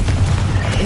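A Confringo explosion spell detonates in Hogwarts Legacy, a single short, dense booming blast that fills the moment, loud and close, with no talk over it.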